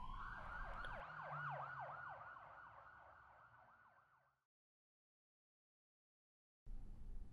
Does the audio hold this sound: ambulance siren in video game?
yes